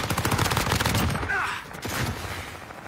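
Rapid video game gunfire in a multiplayer shooter, a dense stream of sharp automatic shots in the first half, then sparser bursts, mixed with game voice callouts.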